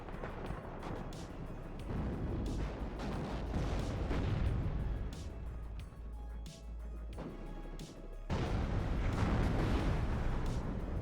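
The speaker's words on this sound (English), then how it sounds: "Artillery coming in on that area to finish off those airborne dragons." Artillery barrage landing in WARNO, a continuous rumble of repeated explosions and impacts with sharp cracks scattered throughout, swelling heavier toward the end, with no talk.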